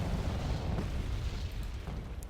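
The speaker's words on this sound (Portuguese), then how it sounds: "Eu vou pedir mais artilharia nossa." Heavy artillery fire in the military strategy game Wargame Red Dragon, a continuous dense roar of booming blasts and rumbling explosions, loud and sustained without speech.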